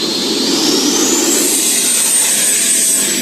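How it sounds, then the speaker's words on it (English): Jet aircraft passing overhead near a runway, a loud, steady roar with a slowly rising whine filling the whole stretch, no voices. "Sounds like a jet."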